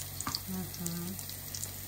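Cutlets fry in a pan over low heat with a steady, close sizzle and soft crackle that holds through the whole moment, with no voices.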